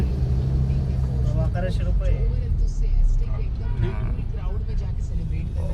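Steady morning traffic on the Pune to Kolhapur highway, a continuous low rumble of cars, buses and trucks passing close by, with people talking over it throughout.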